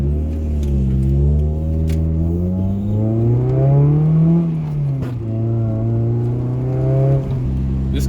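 Naturally aspirated 3SGE engine in a 1995 Toyota MR2 revving loudly and close, its pitch rising and falling in steady sweeps with no talk over it.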